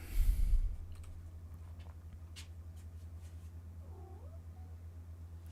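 A cat gives a single soft meow partway through, fairly faint and somewhat distant, after a brief burst of louder noise at the start, over a low steady hum. No one talks.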